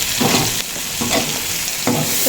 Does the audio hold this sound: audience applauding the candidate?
no